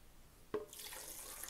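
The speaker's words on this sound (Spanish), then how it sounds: "Y también le voy a poner un poco del agua donde cocí los jitomates" Tomato cooking water pours into a blender holding guajiro chiles for a chilaquiles salsa, beginning with a splash and then running as a steady, fairly quiet stream.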